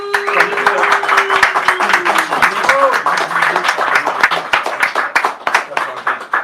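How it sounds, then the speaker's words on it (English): Audience at a poetry reading claps for a poet, sharp individual claps sounding close and distinct alongside talking, with a sustained tone and a whistle-like sweep early on. "wonderful, warm round of applause."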